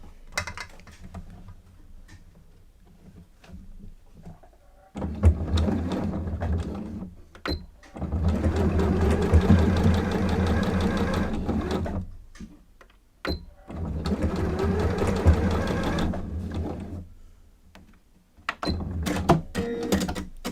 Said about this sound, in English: we're going to stitch a 1/4 inch seam at the bottom end